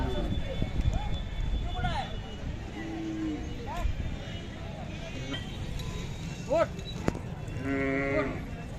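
Cattle, including Khillar bulls, moo several times at a livestock market in Sangola, some near and some farther off, over a steady murmur of crowd noise and people talking.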